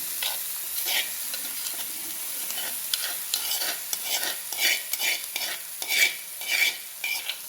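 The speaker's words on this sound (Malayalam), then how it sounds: "ഇനി നമ്മുടെ മാങ്ങ നമുക്ക് ഇതിലേക്ക് ഒഴിച്ചു കൊടുക്കാം കേട്ടോ" Mango pickle mixture, salted with its brine, poured into a hot pan of fried chillies, hissing and sizzling steadily with repeated stirring scrapes and short bursts of louder crackle, close and fairly loud.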